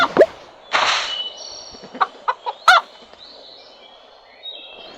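Chickens in the game Hay Day cluck and squawk in short bursts, a few separate calls spread over the clip with quiet gaps between them.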